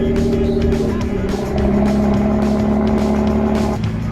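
Engine of a salvaged hypercar running after starting, a loud, steady, close mechanical roar with rich low drone holding throughout, and a voice briefly heard over it.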